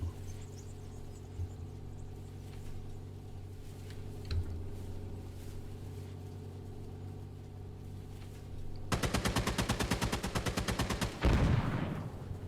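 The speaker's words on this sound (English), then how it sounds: "and then we'll call the artillery in" Gunfire in a tank combat game, where an artillery barrage has been called in: a low engine hum runs throughout, then a rapid, loud machine-gun-like burst of evenly spaced shots near the end, followed by a heavy blast.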